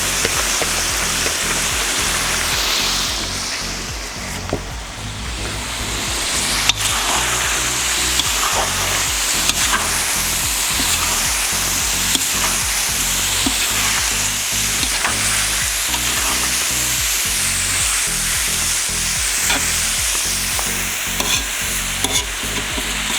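Onion, carrot and sweet pepper frying in a kazan for green sorrel borscht, a loud, dense, steady sizzle with repeated stirring scrapes throughout.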